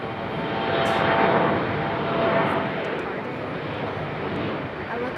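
An Air France airliner arrives or departs at Raleigh-Durham International Airport, its engines making a broad, rushing roar that swells and eases slightly, heard from a distance with a voice speaking over it.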